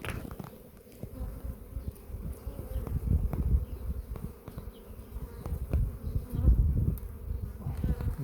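Honeybees buzz loudly and continuously up close as a beehive is lifted in spring, the dense hum swelling and fading with a few light knocks of the hive underneath.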